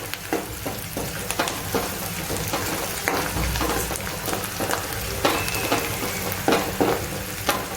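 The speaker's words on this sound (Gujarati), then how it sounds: "એકદમ આપણે સતળાઈ થવા દેવાના છે." Ingredients sautéing in a pan for a Kathiyawadi chavanu and peas snack, a steady close sizzle and fry crackle with occasional stirring scrapes throughout.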